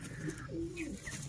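Sialkoti pigeons kept on a rooftop coo in a few short, close calls over a low background hum, with no talk.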